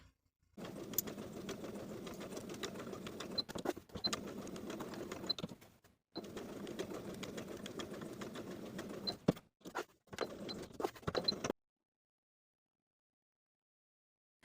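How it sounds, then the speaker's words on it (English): A sewing machine edge-stitches a tie onto a blouse bodice, a steady close mechanical whirr running in long bursts broken by brief stops, then falling silent near the end. "We're going to sew a rectangle on top of that tie piece for that 2-inch gathered section, edge stitching along the tie"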